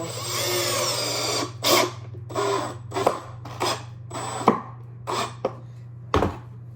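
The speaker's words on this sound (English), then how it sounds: "Then I'm gonna screw it right into my saw." A power drill whirs in repeated short bursts, starting and stopping about eight times, driving a screw into wood, close by over a steady low hum.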